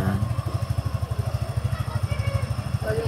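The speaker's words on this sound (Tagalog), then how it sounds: "papainit lang tayo makina mga katans" A motorcycle engine idles steadily while warming up, its low, even pulsing thrum close by throughout, with faint talk in the background.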